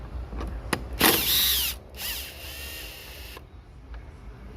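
A power tool spins out a 10mm bolt on a Volkswagen Jetta headlamp, giving a few short whirring bursts and clicks close by, with quieter handling noise between them.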